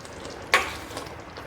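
Boiled chana dal, still in its cooking water, gets a single quick wet stir in a kadai while bottle gourd chana dal sabzi is being made. A brief scrape and slosh stands out against a quiet background.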